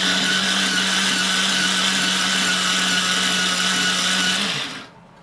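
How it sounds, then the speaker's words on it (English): A Pemenol Eagle electric pencil sharpener grinds a charcoal or colour pencil with a loud, steady whirring hum that holds for several seconds, then winds down and stops abruptly near the end. "let's see how this thing grinds it up."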